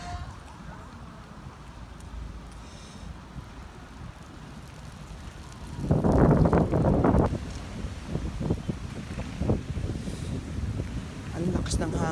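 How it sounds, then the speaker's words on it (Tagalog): Strong, hot summer wind gusting across an outdoor tennis court at a sports complex, a rough blustery rush that swells loudly midway and keeps roaring, buffeting the microphone. "Ang lakas ng hangin."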